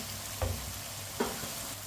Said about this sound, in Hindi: 1 मिनट के लिए पका लिया मसालों को मैंने।